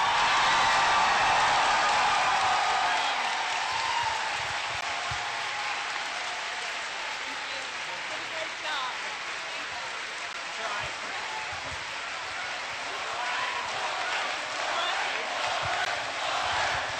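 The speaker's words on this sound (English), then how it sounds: "can we get one last round of applause for Lauren Faust?" Sustained applause from a convention panel audience at a fan convention, a dense steady clatter of many hands filling the room for the full stretch, with some cheering mixed in.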